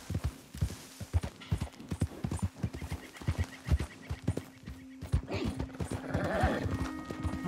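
Horse hooves clip-clop at a brisk, steady rhythm in Red Dead Redemption 2, close and clear. Toward the end the horse lets out a loud neigh over the continuing hoofbeats.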